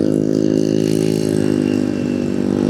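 A Honda ADV 160 scooter-style motorcycle engine and exhaust drone loudly and evenly up close, a steady throbbing hum with slight fluctuations in pitch.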